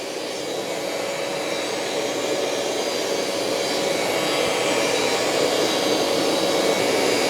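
A BISSELL ProHeat 2X Revolution Turbo carpet cleaner suctions cleaning solution back out of carpet, giving a loud, steady roar of motor and airflow that holds constant throughout, close to the microphone with no talking.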